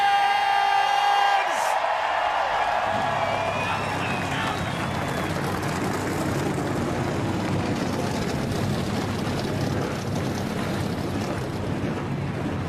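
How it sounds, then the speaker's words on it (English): Roaring NASCAR stock car engines start together in a huge crowd at Pocono, a dense broadband rumble swelling after a brief voice and holding loud and steady throughout. "Drivers, start your engines!"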